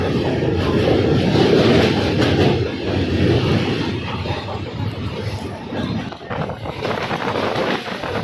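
Golconda Express rumbling along the rails near New Guntur by the Krishna River, a steady, continuous low roar mixed with heavy wind buffeting the microphone, with no clear voices.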